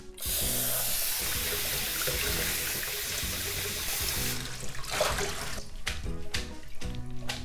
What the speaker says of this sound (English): Now we're going to drain the water and then cool this with running water.